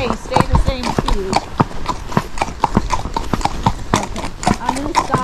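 A gaited horse walks along a road, its hooves striking in a quick, even clip-clop rhythm close by while a rider talks over the steps.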